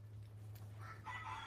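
A chicken makes a short burst of clucking noise, faint and somewhat distant, over a steady low hum indoors.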